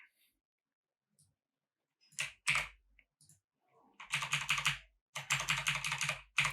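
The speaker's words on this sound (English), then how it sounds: "So we type a comment like this" Typing a code comment on a computer keyboard, a few isolated keystrokes followed by two rapid, close bursts of clattering keys.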